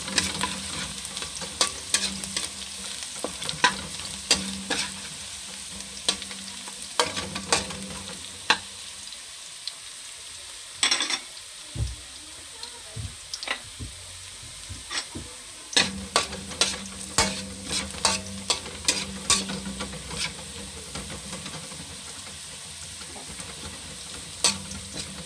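Baby squid adobo browning in a pan with garlic, a steady quiet sizzle broken by frequent clinks and scrapes of a spatula stirring, close by and with no voices.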